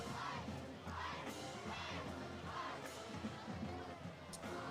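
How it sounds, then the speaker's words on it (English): At a high school football game between the Pleasant Grove Hawks and Atlanta Rabbits, the crowd chants and yells in rhythmic surges as the Hawk marching band rouses them, a dense noisy wash with voices through it. "See the Hawk band getting the crowd fired up"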